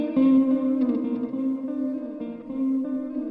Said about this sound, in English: So now I'm freezing the long delay. We're still hearing the tape delay. And the reverb's just encapsulating the whole thing.